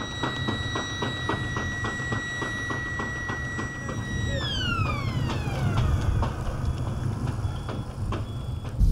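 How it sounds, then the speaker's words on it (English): A siren wails at a car crash test site, holding steady tones before sweeping downward, loud over a rumbling, noisy background with no talking. "that siren means this is a very bad place to stand right now"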